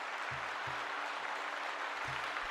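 A small audience at a Dungeons & Dragons homebrew review applauds in a steady wash of hand claps, with low thumps underneath.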